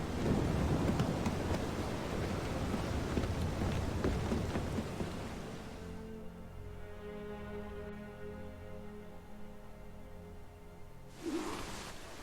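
Heavy rain and rolling thunder from a storm in the video game Assassin's Creed Freedom Cry, loud and dense for about six seconds, then thinning to a quieter tonal ambience with a brief rumble near the end.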